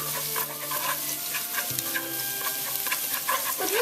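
Ginger stir-fries in a pan for yu choy with oyster sauce, a soft steady sizzle with light scraping stirs and occasional clinks, fairly quiet and close.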